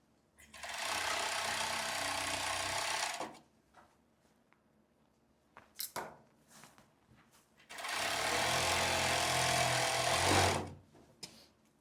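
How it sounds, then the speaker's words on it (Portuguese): A sewing machine stitches a long casual skirt in two loud continuous runs of whirring motor buzz, separated by a quiet pause with a few clicks and handling knocks. "Tirando os alfinetes e costurando."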